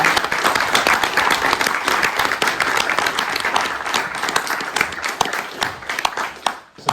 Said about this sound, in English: Everyone give Ron a clap.